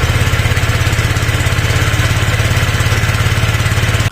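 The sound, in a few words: motorcycle engine starting with electric start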